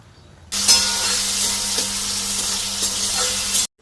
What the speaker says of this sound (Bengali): এবার আমি ওর মধ্যে একটা বড় সাইজের টমেটো কুচিয়ে রেখেছিলাম, সেই টমেটো কোচানোটা দিয়ে দেব।